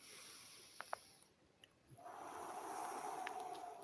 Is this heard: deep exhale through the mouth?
yes